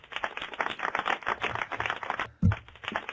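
A round of applause for a trader in a forex trading live room: dense, steady clapping throughout, with a brief drop and a thump near the end.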